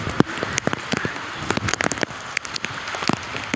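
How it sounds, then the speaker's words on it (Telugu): Rain falls on a rainy day, pattering in irregular sharp drops and splashes over a steady soft hiss, close by and with no voices. "ఇటు సైడ్ పడుతుంది వర్షం"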